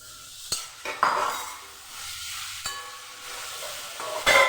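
Fried potato and spine gourd go into oil-released spices for a Bengali curry, with metal utensil clinks and scraping stirs over a soft sizzle, a few sharp knocks against the pan.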